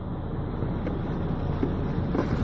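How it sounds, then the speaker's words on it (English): Gale-force storm wind blows outside a parked truck cab, a dense, continuous low roar and buffeting rumble, loud and unbroken with no voices. "there's a storm brewing outside. It is blowing an absolute gale"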